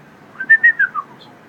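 A series of four short, bright whistled chirps from a bird, rising and falling in quick succession, followed by a faint higher note.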